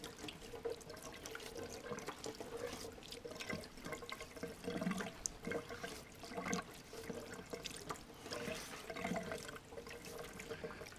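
Water runs continuously from a spring in the forest with a bubbling, splashing flow that stays close and steady and has no voices over it.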